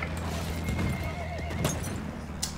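A horse in the World War I shooter Battlefield 1 lets out a rising, wavering whinny over clattering hoofbeats, loud and near, set against a low engine rumble and scattered battle noise.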